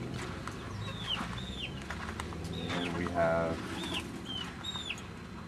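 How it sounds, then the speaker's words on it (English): Chickens in a backyard coop give short, rising high chirps and soft clucks at irregular intervals, fairly close, over steady outdoor ambience, with a person talking quietly. "This is our chicken coop."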